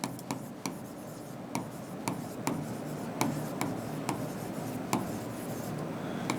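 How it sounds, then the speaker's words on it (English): Chalk or a marker taps and scratches on a board in irregular strokes with sharp little clicks, close and moderately quiet, with no talking. "So let me write the definition."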